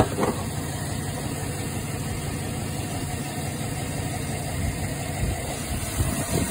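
2007 GMC engine with active fuel management idling with a cylinder misfire, a steady low rumble with slightly uneven pulses and a constant high electrical whine, close and alone without talk.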